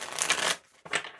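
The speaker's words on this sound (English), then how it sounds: "Let me just shuffle." Tarot cards being shuffled by hand, two quick riffling bursts separated by a short gap, close and crisp with no talk.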